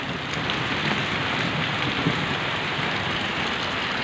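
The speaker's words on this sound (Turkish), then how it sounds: "Şu an köyümüzde gök gürültülü sağanak yağmur var" A heavy thunderstorm downpour drums across a village square, a dense, loud, continuous roar of rain striking surfaces, with a faint low rumble beneath and no voices.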